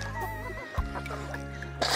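Farm chickens cluck in short, close bursts over a low steady hum, a few quick clucks packed into two seconds with a louder rustle at the end.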